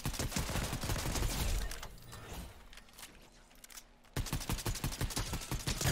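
Rapid automatic gunfire in the video game Fortnite crackles in dense bursts, pausing briefly before resuming loud and close.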